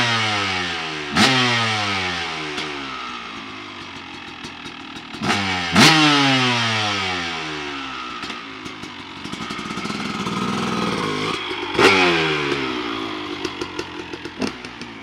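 A 2000 Honda CR250R two-stroke dirt bike fitted with a new FMF Gnarly exhaust pipe fires up and revs loudly in several sharp bursts, falling back to a rough crackling idle between each blip.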